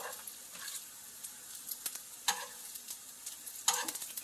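Chinese meatballs (nanjawanseu) frying golden in a pan with oil, a steady soft sizzle broken by brief louder crackles and spatters as they are turned, close and alone with no talk.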